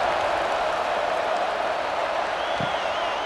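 Stadium crowd buzzing in the College Football 26 video game during Michigan vs Nebraska, a steady distant wash of murmuring and cheering noise that holds level throughout, with a faint whistle-like tone rising near the end.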